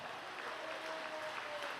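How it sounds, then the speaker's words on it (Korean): Brief steady applause of encouragement from a religious gathering's audience, soft and distant, even clapping with no break. "응원과 격려의 박수 부탁드리겠습니다"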